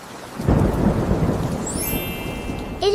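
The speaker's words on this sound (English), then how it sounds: "It is stormy." Thunderstorm with a deep rolling rumble of thunder over steady heavy rain, loud and continuous, ending with a faint chime.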